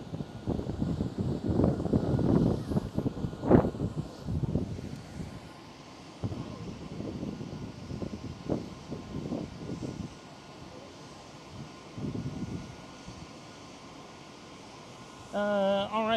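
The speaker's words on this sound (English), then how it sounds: "There goes KLM 787-10." A KLM Boeing 787-10 airliner at Amsterdam Schiphol airport rumbles in the distance, its jet engine roar rising and fading in bursts mixed with wind buffeting the microphone, with a few quiet spoken words in between.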